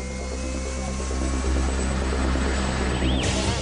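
A British Army Lynx helicopter flying a display, its rotor producing a loud, steady, throbbing drone with a rising whine toward the end.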